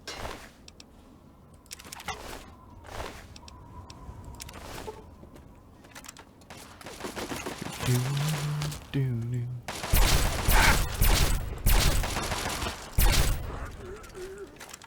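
A blaster fires in Fallout 3 amid other game noises, with dense loud bursts of energy shots clustering near the end after quieter clicks and effects earlier.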